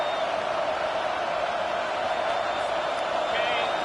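Stadium crowd noise from the College Football 25 video game, heard as a loud, dense, continuous roar with whoops during a fourth-down play, steady throughout and with no talk over it.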